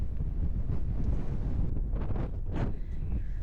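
Strong wind buffets the microphone on an exposed hillside during a solo hike, a constant loud low rumble with gusting swells and no talk.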